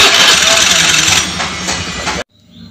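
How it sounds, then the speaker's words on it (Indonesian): Honda Beat motorcycle engine starting and settling into idle while the charging system is checked, a close mechanical churn that steadies and then cuts off abruptly, with a voice briefly overlapping. "Hidupkan mesin untuk mengecek pengisian."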